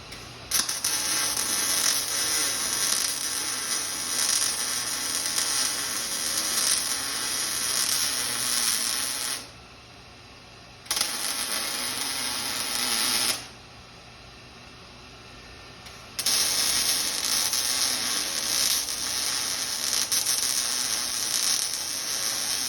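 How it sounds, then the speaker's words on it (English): Someone welds a metal fence stretcher, producing a loud, steady crackling hiss in three long bursts separated by short pauses, with no talking. "So let's weld this up real quick."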